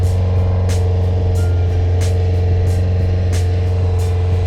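A Honda CBR600F4 motorcycle idling after a carburetor rebuild, a steady loud low engine hum with faint regular ticking pulses running through it and no talk.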